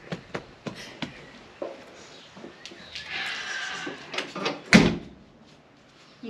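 A Toyota FJ40's doors are worked: a few sharp latch clicks and knocks, a brief rattling creak, then one heavy slam toward the end, fairly quiet and close with no talk.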